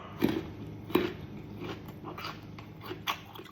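Crisp bites into crunchy Thai candied jujube (phutsa chae im), large pitted fruit, giving two sharp crunches near the start with lighter chewing crackles afterward, close and fairly quiet.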